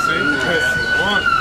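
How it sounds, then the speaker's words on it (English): Emergency sirens wail along 24th Street in San Francisco's Mission District, a steady high tone layered with rising and falling wails, loud and continuous while a voice talks over them. "the sirens in the mission"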